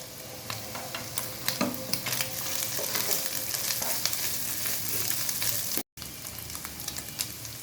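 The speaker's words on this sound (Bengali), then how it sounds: "চপড করা রসুন হালকা ভেজে নিয়েছি। এবার মাংসের সাথে মিশিয়ে দেব।" Chopped garlic and chicken fry in a pan for pasta, with a dense, continuous sizzle and crackle, close and fairly loud, broken by scattered stirring clicks and one brief dropout.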